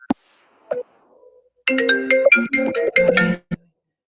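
On a call-in radio show, a phone ringtone signals an incoming call: a couple of brief tones, then a loud, bright melodic jingle of rapid notes lasting about two seconds, ending with one final chirp.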